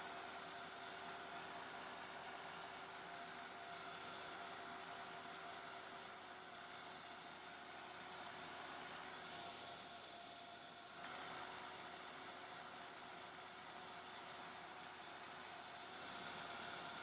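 A heat gun blows over a crayon monoprint on paper to dry it, a steady, moderately quiet whooshing hiss of airflow that holds through the whole stretch with slight swells, no talking.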